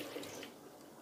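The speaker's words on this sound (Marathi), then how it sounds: "मी बरोबर आता याच्यामध्ये 10 वाटी पाणी टाकणार आहे" Water is poured into a thick-bottomed pressure cooker while making barnyard millet papad, a faint, brief splashing pour that fades quickly, with no speech.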